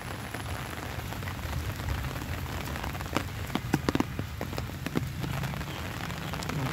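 Steady rain patters on the ground across an open central field of a university campus near the residence halls, with a few sharper, closer drops standing out against the constant wash.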